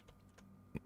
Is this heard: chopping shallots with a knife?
no